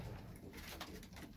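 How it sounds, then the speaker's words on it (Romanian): Pigeons coo softly in a loft, a faint low murmuring call repeating under light background rustle. "Haideți să vă prezint cei doi porumbei"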